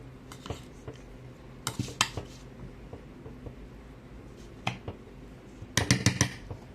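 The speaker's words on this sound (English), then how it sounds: "just roughly mixing everything up in the bowl first" Tuna patty mixture with onions being roughly mixed in a bowl, sparse utensil clinks and scrapes against the bowl coming in scattered bursts, with a denser flurry of clatter near the end, fairly quiet and close.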